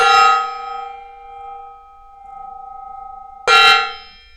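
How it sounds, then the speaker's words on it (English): A workshop gong is struck twice, each hit ringing out with a bright metallic shimmer that sustains and slowly fades, the second strike about three and a half seconds after the first. "I'll hit that gong."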